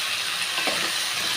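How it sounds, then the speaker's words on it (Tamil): Mixed vegetables sauté in hot oil with chopped tomatoes for a milk-based Pongal curry, making a steady, close, even hiss and sizzle with faint crackles and no speech. "எண்ணெயிலே பாருங்கள், எல்லா காய்கறியுமே வந்து நல்லா வதக்கிக்கிட்டேங்க"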